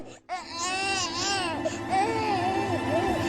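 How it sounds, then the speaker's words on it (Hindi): Cartoon baby crying inside a hut, a close, continuous wailing with repeated rising and falling sobs over a few seconds and no speech over it. "इसके अंदर से तो बच्चे के रोने की आवाज आ रही है।"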